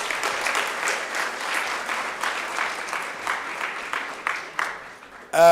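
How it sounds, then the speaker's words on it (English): Audience applause at an annual archbishop's lecture, a steady wash of many hands clapping for about five seconds before a louder burst at the end. "Can we give them a round of applause?"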